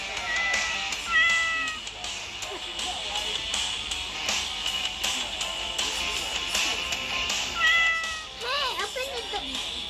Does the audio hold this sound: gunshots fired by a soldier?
no